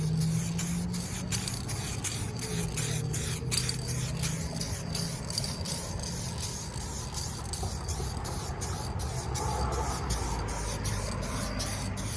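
A car being spray painted with its fifth and final coat, a continuous loud hiss of the spray gun running steadily throughout, with a faint pulsing rhythm underneath and no talking.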